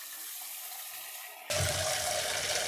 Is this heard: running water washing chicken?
yes